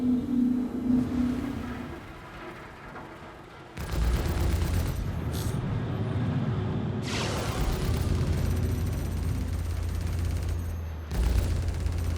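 Ship weapons firing during space combat in Star Citizen: a dense, roaring barrage of rapid gunfire and booming blasts in bursts, loud and close, with a quieter lull between volleys.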